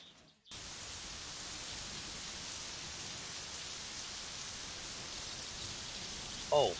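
Steady, even hiss of rain falling in the driving game My Summer Car, a soft continuous wash with no breaks, ending in a brief faint knock.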